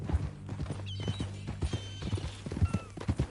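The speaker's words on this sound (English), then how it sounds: "That new horse?" Horse hooves clip-clop in the Red Dead Redemption 2 video game, a steady close walking rhythm of distinct thuds, with a faint whinny-like tone in the background.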